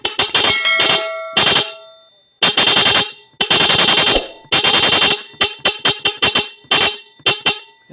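Loud car horn fitted with a newly installed interrupter relay, blaring in rapid chopped bursts: a few longer blasts followed by a quick stuttering series of short honks, close and alone.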